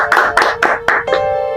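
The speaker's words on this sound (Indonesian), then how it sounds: "Tepuk tangan untuk semuanya." Several sharp hand claps ring out close and loud in a quick uneven burst of about five, ending in a brief ringing tail.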